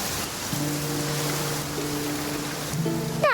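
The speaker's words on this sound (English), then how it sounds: "Oh, it's raining." Steady rain falls in Genshin Impact, a soft even hiss heard alone throughout, with a sustained low in-game tone underneath and a brief rising chirp at the very end.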